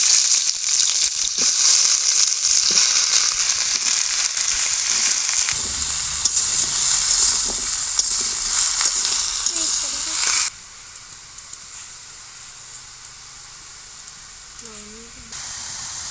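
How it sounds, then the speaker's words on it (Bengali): Pieces of bottle gourd dropped into hot oil in a kadai give a loud, bright, continuous sizzle and hiss that later drops to a quieter steady fry, with occasional faint clatter. "তেলটা গরম হয়ে গেছে, এবার লাউগুলো দিয়ে দেবো।"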